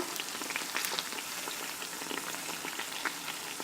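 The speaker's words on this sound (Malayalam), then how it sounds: "അപ്പോൾ ഇത് ഒരു ഭാഗം ഫ്രൈ ആയി വന്നിട്ടുണ്ട്." Wheat-batter pazhampori banana fritters fry in hot oil, giving a soft, continuous bubbling sizzle with fine crackling pops, steady and fairly faint throughout with no voices.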